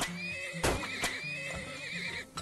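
A horse in the video game Termoil neighs loudly through a whinnying call, with soft hoof clip-clop mixed in over game background sounds.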